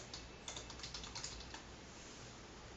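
Quick, close keystrokes on a computer keyboard in a short burst of light clicks that trails off into a quiet room hiss, with no talk.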